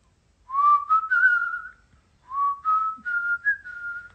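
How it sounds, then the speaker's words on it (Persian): A person whistles a short melodic tune in two phrases separated by a brief pause, clear and close with no talking. "سوت میزنم."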